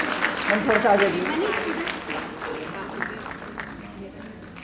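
Applause from a crowd at a swearing-in ceremony fills the clip, dense and steady, with a voice speaking over it as the clapping gradually thins out.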